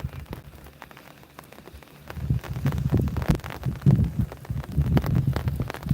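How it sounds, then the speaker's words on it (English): Steady rain falling, a continuous dense patter with low thudding drops that grows heavier and louder after the first two seconds, heard alone without talk. "a bit more rain right now"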